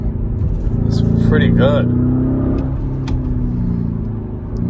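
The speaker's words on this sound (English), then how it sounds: "let's try second gear. Oof, that pop." A Lamborghini Urus in sport mode accelerates in second gear on an open road, its engine note rising steadily and then settling, with a brief exhaust pop, while a voice briefly speaks over it close to the microphone.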